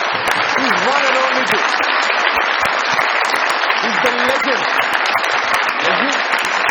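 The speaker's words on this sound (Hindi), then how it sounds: "इनके लिए भरपूर तालियां बजाइए आलमगीर साहब।" A large crowd at a comedy TV show taping claps loudly and continuously, with a voice calling out briefly over the applause.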